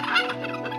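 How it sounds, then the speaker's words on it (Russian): Farm poultry call, a brief turkey-like gobble from a yard with geese, chickens and turkeys, short and close, heard alone. "Гуси у нас, вот козочки есть, конечно, курочки."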